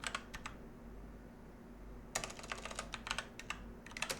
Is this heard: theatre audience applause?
no